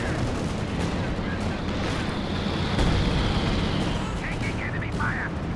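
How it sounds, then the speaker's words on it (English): Howitzer artillery barrage in the video game Company of Heroes 2, a continuous rumble of distant shelling and gunfire with a heavier thump partway through, under steady commentary. "Lining up a howitzer barrage around here as well."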